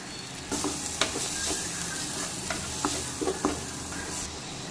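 Chilli powder, garam masala, turmeric and coriander powder are stirred in a frying pan for capsicum rice. A soft sizzle runs throughout, with intermittent scraping knocks from the stirring spoon. No voice is heard.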